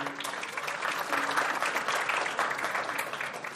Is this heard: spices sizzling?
no